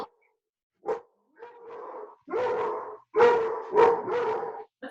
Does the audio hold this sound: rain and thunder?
no